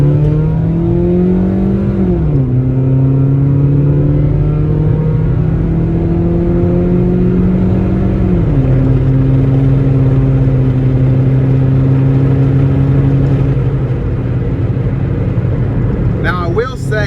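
A 1989 Toyota MR2 with a 1.6-litre four-cylinder engine and 140K miles idles and then revs lightly in two steps, its steady engine drone stepping up and settling, close and loud from inside the car.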